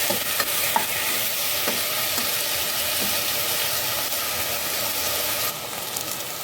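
Steady, loud sizzling of potatoes frying in hot oil fills the whole stretch, with faint stirring clicks now and then.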